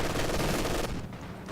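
Heavy 120mm mortar fire in a strategy video game, a loud dense roar of rapid blasts that thins out and fades near the end.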